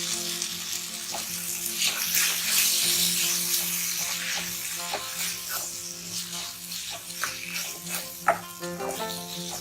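Green peas being stirred into a sizzling tomato masala in a pan for matar kurma, a steady close frying hiss with soft scraping strokes throughout.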